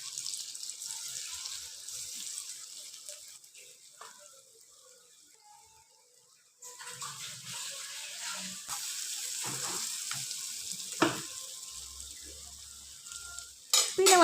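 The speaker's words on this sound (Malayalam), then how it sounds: "വെളിച്ചെണ്ണ ചൂടായി വരുമ്പോൾ നമ്മുടെ സോയാബീൻ ഇതിലേക്ക് ഇട്ട് കൊടുക്കാം." Soybeans frying in hot coconut oil on a low flame: a steady, close sizzling hiss with occasional clinks of stirring, the sizzle rising sharply near the end.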